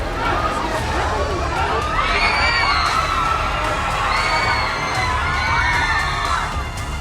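Excited crowd of fans screaming, whooping and shouting continuously at close range as actor Allu Arjun passes by, with high cheers rising over a dense wall of voices.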